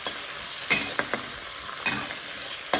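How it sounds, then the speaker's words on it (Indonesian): Seasoning and pak choi stir-fry in a pan for instant noodles, a steady high hiss of sizzling punctuated by a few sharp spatula clicks and scrapes, close and without speech. "Sekarang kita aduk, kita gongseng supaya bumbunya merata."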